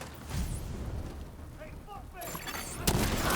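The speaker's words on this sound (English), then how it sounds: "I hear gunfire." Gunfire in The Division video game, bursts of shots and booming blasts mixed with game effects, with a voice talking over parts of it and a loud hit near the end.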